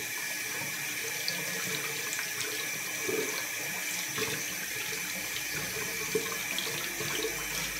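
Tap water runs steadily into a sink while dreadlocks are rinsed, a continuous close splashing hiss with small irregular spatters and no talk.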